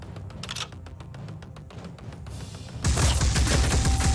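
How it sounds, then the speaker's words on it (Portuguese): Defense tower turret in the video game Phoenix Point firing a rapid train of evenly spaced shots, then a louder, denser burst of gunfire and impacts near the end, with no talk over it. "Vai tomar tiro da torre e vai morrer."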